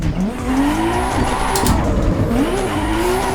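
Tires squeal in long rising and falling wails as a car drifts in the racing game Assetto Corsa EVO on the Nordschleife, loud and close over a steady engine drone, with no talking.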